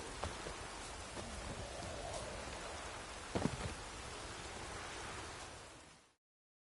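Steady rain falls across a village in The Witcher 3, a constant even hiss of drops throughout with a brief louder splash near the middle, and no talking over it.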